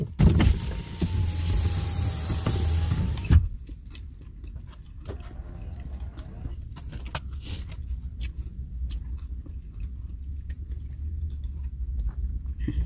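A car's power window motor whirs for about three seconds as the window goes up, ending in a firm thunk as it seals, followed by quieter cabin rumble.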